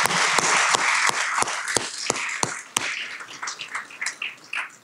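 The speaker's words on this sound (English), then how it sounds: "another round of applause for everyone who went through today" Audience applause at a DC Water pinning ceremony, honoring participants: a close, loud run of rhythmic individual claps at first, softening into scattered, fainter clapping and murmuring voices toward the end.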